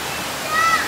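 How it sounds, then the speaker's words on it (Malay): River water flows steadily at a forested riverside campsite, a continuous broadband rush at moderate level with a slight swell toward the end, and a voice faintly present beneath it. "Oh, ni sungai dia."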